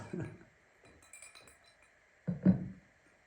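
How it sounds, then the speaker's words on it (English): Ice cubes clinking against a drinking glass, two short clusters of clinks with a rattling tone, heard close and fairly quiet, with a faint voice in the background. "Can you hear the glass? The ice in the glass?"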